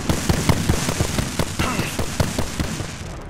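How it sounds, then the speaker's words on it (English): Knuckle cluster firing in Apex Legends on Xbox Series X, a rapid string of crackling, popping bursts in a steady rhythm over a dense, loud game soundscape. "Knuckle clusters firing."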